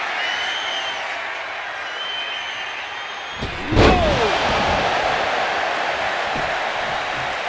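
A wrestling arena crowd roars steadily in WWE 2K25, a continuous wash of cheering noise with one heavy slam thudding midway through.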